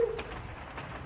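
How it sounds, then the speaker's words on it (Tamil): A pet pigeon in a cartoon gives a brief, soft coo up close, followed by a faint hush of background noise. "கெனிச்சி, இந்த புறாவை எனக்கு ரொம்ப பிடிச்சிருக்கு"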